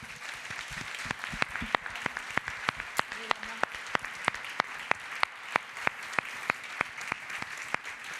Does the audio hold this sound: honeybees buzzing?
no